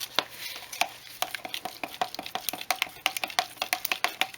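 Mixing stick knocking and scraping around the edges of a tin of grain enhancer finish for a Les Paul guitar build, a quick irregular run of sharp close taps with no talking.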